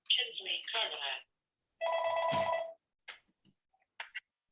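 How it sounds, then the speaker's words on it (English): A phone rings in short electronic bursts, two loud tonal trills followed by brief clicks and faint chirps, fairly close and otherwise quiet. "Just 1 second, my phone's ringing."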